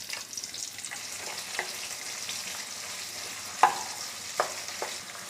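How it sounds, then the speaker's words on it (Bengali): Two medium-sized chopped onions sizzling steadily in hot oil in a pan, with a few scraping clicks from stirring. "পেঁয়াজ কুচি নেড়ে চেড়ে ভেজে নেব"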